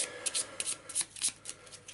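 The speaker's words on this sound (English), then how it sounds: "A quick shuffle." A quick riffle shuffle of playing cards, crisp rapid flutters in a short burst, close and fairly quiet.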